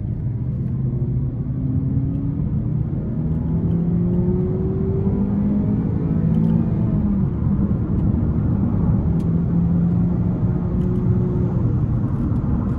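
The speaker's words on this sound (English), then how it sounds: "I'm gonna put it in the manual mode, and then we're gonna give it some throttle here." A 2015 Chevrolet Impala LT with the 2.5-liter four-cylinder accelerates under throttle in manual mode, a steady low engine drone with rising tones climbing through gears, heard from inside the cabin without talking.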